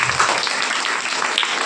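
A church congregation at a fasting prayer service bursts into brief, dense clapping that fills the short moment with no one speaking.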